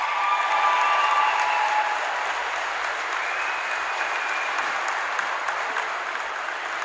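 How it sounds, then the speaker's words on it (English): Sustained audience applause fills a large hall at the 2020 BC Winter Games opening ceremonies, a steady broadband wash of many hands clapping at once, loud and even throughout without talk on top. "Let's give them a huge round of applause."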